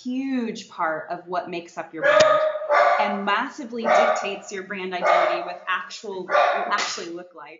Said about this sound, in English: Sorry, I don't know if you can hear my dog barking.